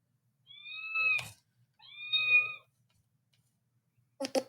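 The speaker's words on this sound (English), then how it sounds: "So I'm just going to do the little cat sound so you guys can hear what it sounds like." Two clear, drawn-out electronic cat meows from a robot pet device, each about a second long with a short pause between, followed by a brief clatter, in an otherwise silent room.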